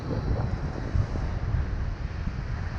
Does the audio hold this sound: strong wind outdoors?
yes